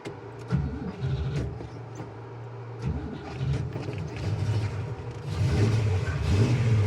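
A 1954 Oldsmobile Super 88 V8 with dual four-barrel carburetors idles with a steady low rumble, close up, rising slightly louder toward the end.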